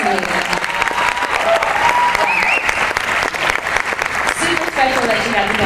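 Loud, sustained audience applause fills a hall during an athletic hall of fame dinner at Tiffin University, a dense crowd clapping steadily with cheers and voices mixed in throughout.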